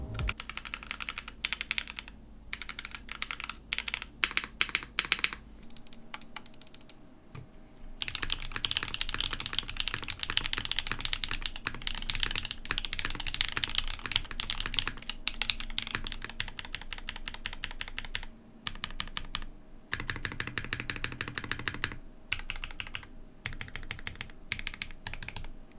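Steady typing on a top-mount 65% mechanical keyboard, a dense run of close, crisp key clacks in bursts with brief pauses, continuing for a long stretch with no talking.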